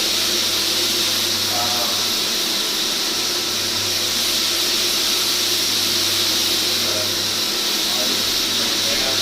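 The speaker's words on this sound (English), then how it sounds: "And then you can just sand the floor." A Polivac floor sander works across a floor, its loud, steady whirring roar running unbroken from start to finish with little change in pitch or level.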